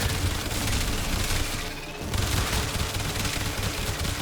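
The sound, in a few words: Coda Hema weapon rapid firing in Warframe video game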